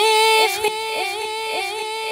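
Ableton Live 12 delay set to 95% feedback: a sustained tonal sound repeats in a continuous cascade of echoes that barely decay, steady and loud with no voice over it.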